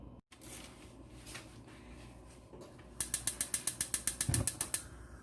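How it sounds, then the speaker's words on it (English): A gas stove being lit while Nigerian jollof rice is made, giving a quick run of about a dozen sharp, evenly spaced clicks from the igniter after a few quiet seconds of faint kitchen noise. "I'm turning the gas on."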